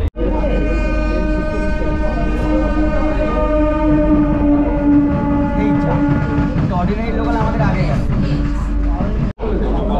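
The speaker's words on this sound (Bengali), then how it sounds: "এই হচ্ছে আমরা দমদম জংশন ঢুকে যাচ্ছি।" An AC local train on the Bangaon–Sealdah route pulls into Dum Dum Junction with a loud, continuous rumble of wheels on rails and a sustained tonal hum throughout. Voices talk over it.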